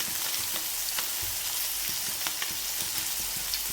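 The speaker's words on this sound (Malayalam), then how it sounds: "അപ്പം എല്ലാ മത്തിയും ഇട്ട് കൊടുത്ത് ഞാൻ ഫ്രൈ ചെയ്തെടുക്കുകയാണ്" Sardines frying in coconut oil give a steady, close, loud sizzle with scattered sharp crackles and pops throughout.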